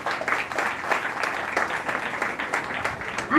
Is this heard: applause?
yes